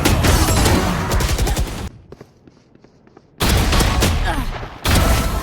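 Loud, dense bursts of blasts and gunfire in a video game match, with a sudden cut to a quiet muffled stretch before the heavy explosive roar returns in two abrupt surges.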